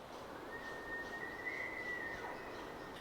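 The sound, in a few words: elk bugling and cow elk calling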